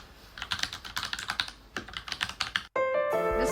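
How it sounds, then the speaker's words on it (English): Rapid keyboard clicks in two quick bursts with a short pause between, then a sudden sustained musical tone cuts in. "I'm trying to hear the keyboard"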